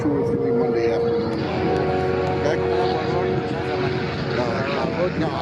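Aircraft with V12 liquid-cooled engines at the 2023 Columbus Airshow, a loud continuous engine roar with wavering tones, overlaid by a commentator talking throughout.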